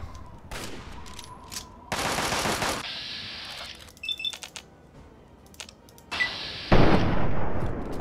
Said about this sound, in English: Dude, they got an assault rifle.